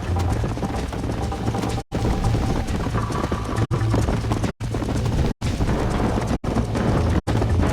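Horse galloping fast in Red Dead Redemption, steady thudding hoofbeats under a dense, continuous rumble of wind and movement, loud and close, broken by several brief dropouts.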